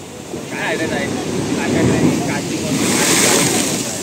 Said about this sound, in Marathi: पाणी पण आपटून वरती उसळतोय